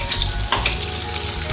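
Pork lumpia frying in hot oil, a steady, close crackling sizzle with a few sharper pops.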